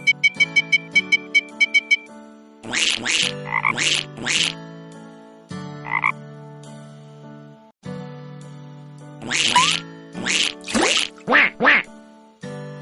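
Cartoon ducks quack on a pond in a children's story sound effect. Loud bursts of quacks come in clusters between a tinkling chime intro and light musical tones.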